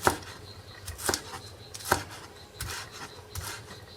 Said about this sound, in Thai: เราก็หั่นต้นหอมนะคะเป็นท่อนๆนะคะไว้ตกแต่ง